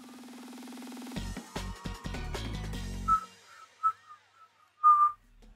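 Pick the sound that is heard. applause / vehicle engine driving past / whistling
whistling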